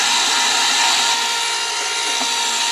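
A motorized stirrer turning a brew-in-a-bag mash, a steady whirring motor drone with a faint higher whine, continuous and fairly loud with no voices.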